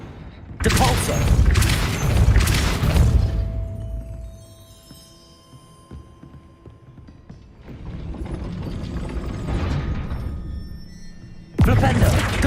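Spellcasting effect in Hogwarts Legacy, a Depulso force-push spell: bursts of loud, broadband whooshing impacts with a creaking, mechanical ratchet-like rumble, separated by a quieter stretch, then a sharp blast at the end.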